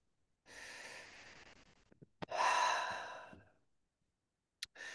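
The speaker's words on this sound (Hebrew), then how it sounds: "בואו ניקח רגע נשימה." A man takes one deep breath, a soft drawn-in inhale followed by a longer, louder sighing exhale, close to the microphone in an otherwise quiet space.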